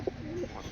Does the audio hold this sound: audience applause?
no